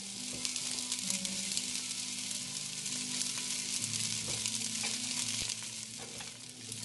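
Onions and zucchini seasoned with garlic seasoning cook in a pan over medium heat, producing a steady soft sizzle with occasional light stirring sounds and a low background hum.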